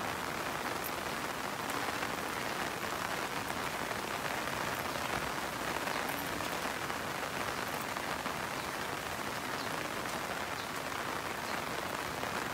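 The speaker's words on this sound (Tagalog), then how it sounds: "Ngayon po, ulan lang, walang hangin." Steady rain falls on a farm with no wind, a soft, even patter of drops continuing unbroken throughout at a low, constant level.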